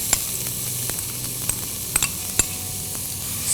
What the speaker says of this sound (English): Now in this I am going to add chopped onions